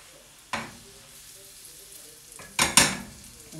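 Pear slices sear in a hot pan for pear and camembert toasts, a soft steady sizzle broken by two sharper bursts of crackle as pieces are stirred or turned, with no talk.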